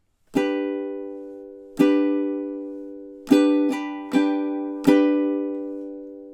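Several plucked ukulele strums of a song ring out alone, each decaying slowly, with a quick triplet cluster of three strums in the middle.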